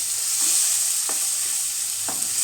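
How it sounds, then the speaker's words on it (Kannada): Tomato and cashew paste frying in a pan, heard as a dense, steady hiss with a few soft stirring scrapes, close and continuous, with nobody talking. "ಸ್ವಲ್ಪ ಚೆನ್ನಾಗಿ ಫ್ರೈ ಆಗಲಿ."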